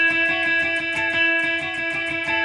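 A guitar picks a quick repeating riff, steady rhythmic notes over ringing open strings with a gritty, amplified tone.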